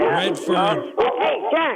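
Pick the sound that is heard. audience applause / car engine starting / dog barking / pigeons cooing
dog barking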